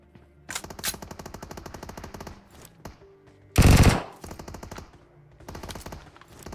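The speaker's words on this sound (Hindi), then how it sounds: "भाई इस बंदे ने पूरी M249 चला दी।" Bursts of M249 machine gun fire in the BGMI mobile battle game come as rapid, rhythmic runs of shots, with one loud dense blast in the middle, without talk.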